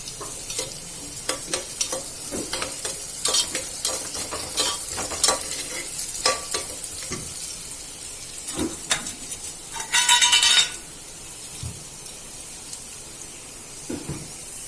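Dal roasting in a pan while being stirred, with repeated scraping strokes of a spoon against the metal over a soft, continuous sizzle, close and fairly quiet, including one brief louder hissing burst, and no speech.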